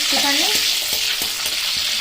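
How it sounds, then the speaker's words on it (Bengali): Bay leaf and cumin seeds sizzle in hot oil with a loud, steady hiss, broken by a few sharp clicks and scrapes of stirring. "প্রথমে দিয়ে দিচ্ছি তেজপাতা ফোড়নের জন্য, একটুখানি সাদা জিরে"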